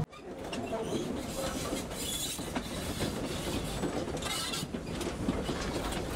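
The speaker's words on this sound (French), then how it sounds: "Après avoir quitté la gare du Chambon, notre train va s'engager dans la partie la plus boisée de son parcours." The Velay Express steam train runs along its line, a steady close rumble and rattle of wheels and carriages with a faint hiss on top, continuous and without talking.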